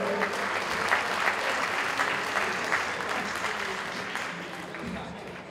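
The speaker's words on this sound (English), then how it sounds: "big round of applause" An audience applauds string-band singers at a live middle-school concert, a steady wash of clapping with faint voices underneath, holding level before easing off slightly at the close.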